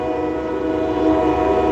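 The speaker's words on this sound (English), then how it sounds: "That's a train in the background" A train horn blares loudly and steadily, its sustained tonal chord holding for the whole brief moment with the rumble of the passing train beneath it.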